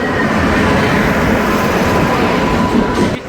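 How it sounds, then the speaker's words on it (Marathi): The Bhagalpur Express passenger train rumbles loudly and steadily past at close range as it arrives, a continuous heavy roar of wheels and carriages that eases off at the end. "आमची ट्रेन आलेली आहे बागालपूर एक्सप्रेस"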